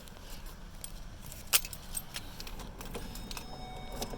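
Car keys jangle near the ignition of a vehicle, with a bright metallic rattle and a sharp clink partway through, over a low, steady interior hum and no talk.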